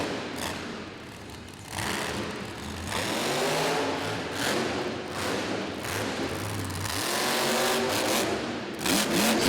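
A monster truck engine roars and revs as the driver Sylvester whips it around and drifts through an arena corner at Rupp Arena in Lexington, a continuous loud, rough drone rising and falling over a broad crowd wash.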